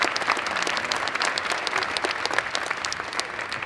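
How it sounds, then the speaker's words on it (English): A high school spring concert audience applauds the winter percussion ensemble, with sustained, dense clapping from many hands filling a hall, loud and continuous and without speech. "So let's give a round of applause for our Winter Percussion."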